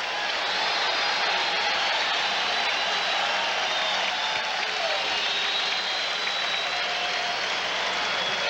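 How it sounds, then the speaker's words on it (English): Basketball crowd in an arena applauding a Michael Jordan play during a 1988 Bulls at 76ers game, a dense, sustained wash of clapping and cheering at steady volume throughout. "Fans applaud that play by Michael Jordan."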